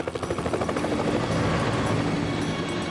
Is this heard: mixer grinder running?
no